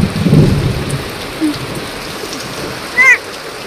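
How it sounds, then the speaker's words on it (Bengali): A hailstorm with heavy rain pours down steadily, a dense loud hiss of rain and hail on surfaces with a low rumble of thunder, and short bursts of voices breaking in a couple of times. "শিলা বৃষ্টি হচ্ছে"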